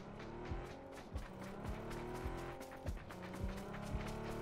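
A motorcycle being ridden in the PUBG video game, its engine a steady droning rumble with shifting pitch and occasional thumps and skids, moderately close with no talking.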